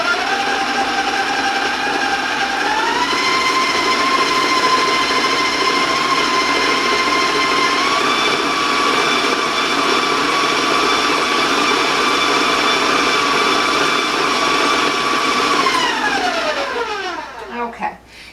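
An electric stand mixer creams butter, a loud steady motor whine with a rising pitch shift near the start and another mid-way, running continuously before winding down and stopping at the end.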